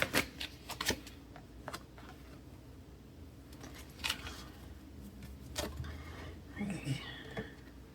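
Tarot cards are shuffled and drawn by hand, producing soft riffles, flicks and papery slides, close and quiet, scattered in irregular bursts.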